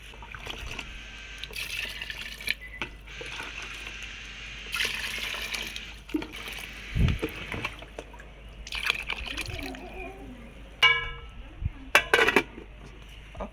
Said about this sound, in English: now I will add water